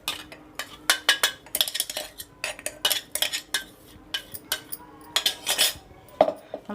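A spoon briskly stirs a sticky jaggery protein laddu mixture in a metal dish, producing a rapid, uneven run of close scraping clinks and taps.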